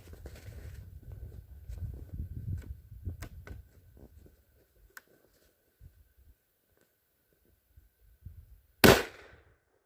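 A single sharp .308 rifle shot firing a 168 grain match target bullet into snow cracks loudly near the end, after quiet outdoor rustling and low rumble.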